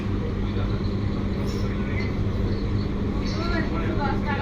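An AC galloping local train from Sealdah to Krishnanagar City Junction pulls into Bidhannagar Road station, giving a constant loud rumble and rolling hum with faint squeals, heard from inside with muffled voices in the background.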